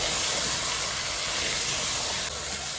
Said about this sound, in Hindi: हम और भूनेंगे चिकन को